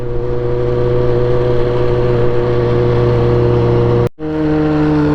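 A Honda CB400 Super Four motorcycle engine drones loudly and steadily with a strong tonal hum, briefly dropping out for a gear shift near the end before the revs pick back up.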